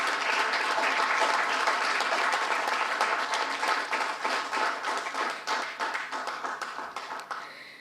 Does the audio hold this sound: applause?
yes